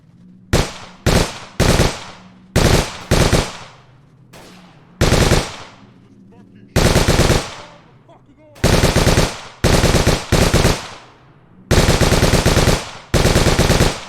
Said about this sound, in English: We can hear gunshots going off.